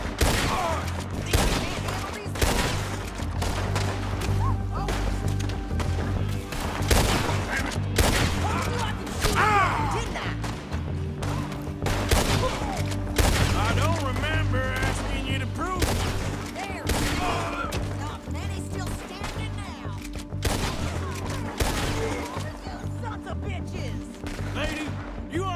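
A drawn-out video-game gunfight with repeated gunshots and rattling volleys throughout, steady and loud, mixed with impacts and crashes while characters talk over the shooting.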